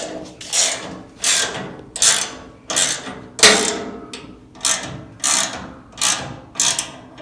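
A ratchet wrench clicks in about nine evenly spaced strokes as the rear gas tank straps are tightened under a 1967-72 Chevy C10, each a sharp burst of ratcheting close by with no talking.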